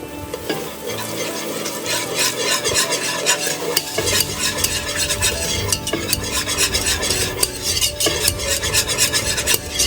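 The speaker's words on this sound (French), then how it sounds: "Il faut bien remuer pour éviter qu'il y ait trop qu'il y ait des grumeaux en fait." A spoon stirs roux into a simmering blanquette de veau, scraping and rubbing against the pot in quick repeated strokes over a soft bubbling sizzle, close and continuous.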